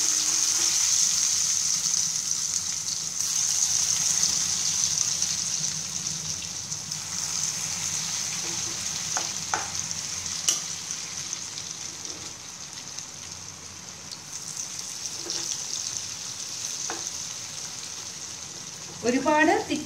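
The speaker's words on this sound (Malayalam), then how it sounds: "കുറേശ്ശെയായി നമുക്ക് എണ്ണയിലേക്ക് ഇട്ട് വറുത്ത് എടുക്കാം" Beef pieces frying in hot coconut oil for beef chilli, a steady close sizzle holding throughout with a few soft clinks near the end.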